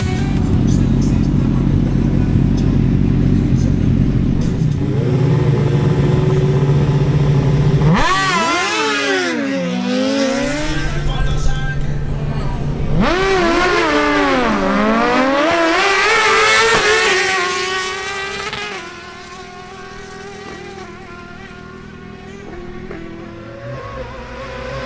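Suzuki GSX-R1000 motorcycles at a drag race: loud engines idling and revving, then two bursts of rapid full-throttle acceleration with sharp gear-shift sweeps, the second fading into the distance.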